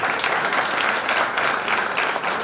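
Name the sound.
audience applause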